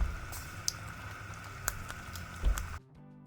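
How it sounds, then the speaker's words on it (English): Eggs sizzle gently in melted butter in a pan, a soft crackling and popping that continues steadily and quietly, with a few sharper spits before it cuts off. "start of course with a pat of butter. And I like to let the eggs sit in a layer and just cook a little bit"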